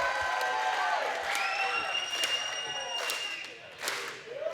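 Wrestling arena crowd at an IMPACT event in the Orlando area, a loud continuous roar of cheering with whistles and sharp thuds and whoops, while commentators talk over it.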